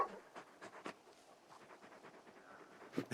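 A big dog panting in Final Fantasy XVI, quick breathy huffs in a steady rhythm, close and fairly quiet, with a louder rustle near the end.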